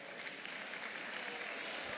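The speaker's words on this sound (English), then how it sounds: "A round of applause for her, please." An audience at a political plenary session on diversity applauds, a dense, steady clatter of many hands clapping together at a moderate distance, continuous throughout the short stretch.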